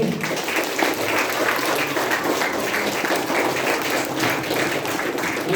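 Audience applause at a school ceremony marking the anniversary of the 3 May Constitution, honouring a singing group and their accompanist; dense, steady clapping from a full hall, loud and sustained throughout.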